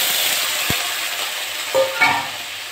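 Fat rendered from fish heats in a hot pan for a Bengali fish curry, giving a steady close hiss of sizzling oil, a single sharp clack, then a couple of brief louder spits near the end, with no talking.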